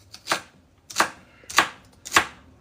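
A knife chops through ingredients on a cutting board while gumbo is being made. Four crisp, separate thwacks land at an even, unhurried pace, close and clear, with no voices.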